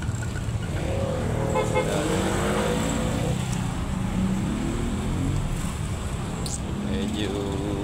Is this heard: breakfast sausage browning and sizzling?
no